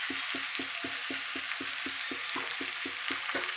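Green chillies and salt fry in oil while a utensil stirs, scraping the pan in a steady rhythm of about four strokes a second over a constant sizzle, with no talking.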